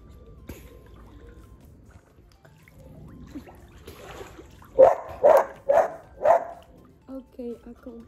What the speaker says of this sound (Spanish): Y el perro ladrando.